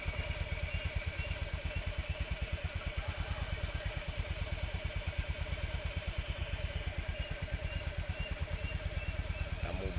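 A motorcycle engine runs steadily, giving a loud, close, rhythmic throbbing pulse that continues without a break throughout.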